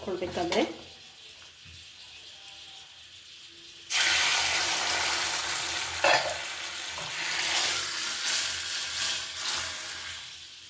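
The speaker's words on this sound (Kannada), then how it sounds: "ಸ್ವಲ್ಪ ಒಗ್ಗರಣೆ ಕೂಡ ಕೊಟ್ಕೊಳ್ಳೋಣ" Tempering of asafoetida and spices for radish sambar sizzles loudly as it hits hot oil, a sudden burst of bright crackling hiss that holds steady with pops and stirring, after a quieter start.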